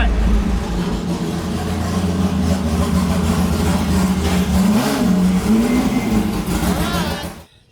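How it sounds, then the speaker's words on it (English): A Chevrolet Corvette C8 with a new naturally aspirated engine revs hard while drifting around Thunderhill Raceway, a loud sustained roar with rising and falling pitch that cuts off abruptly near the end. "First driftings with the new engine. It rips."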